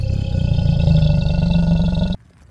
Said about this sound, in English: Coming up a steep hill and he roars.